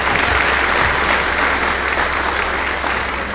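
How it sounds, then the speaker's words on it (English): Sustained applause from an awards-ceremony audience at a sports awards event, honoring parents and coaches; dense, steady clapping fills the room at an even level throughout. "Let's give them a round of applause as well."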